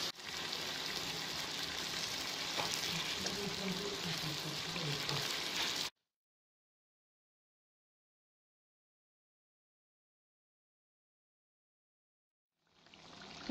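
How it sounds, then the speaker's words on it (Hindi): Chicken karahi, Peshawari charsi street style, sizzles loudly as meat fries with halved tomatoes in a pan, a dense steady crackle for about six seconds that cuts to silence, then returns near the end. "गोश्त को फ्राई करते रहें।"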